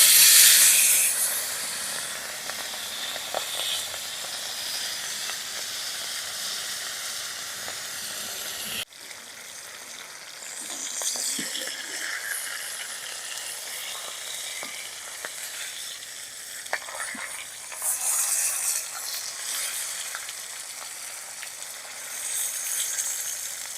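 Large freshly caught pond fish frying on a hot tawa griddle outdoors in a village, a continuous close hissing sizzle that starts loud and settles after a sharp break, with scattered pops and stirring.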